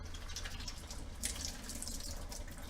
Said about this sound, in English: now I'm going to throw the water out of this salmon.